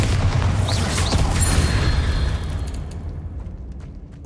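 A Bombarda explosion spell cast in Hogwarts Legacy on Xbox Series X, a loud booming blast with crackling debris that rolls on and then fades away over a few seconds.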